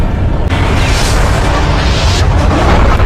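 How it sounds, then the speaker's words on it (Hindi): A massive explosion levels a corporate headquarters in a zombie action film, a continuous, loud, broadband roar with a heavier surge about half a second in, sustained without pause and no talk. "कुछ ही सेकंड बाद पूरा अम्ब्रेला हेडक्वार्टर एक भीषण धमाके के साथ राख में बदल जाता है।"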